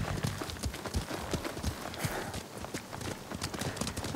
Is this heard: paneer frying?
no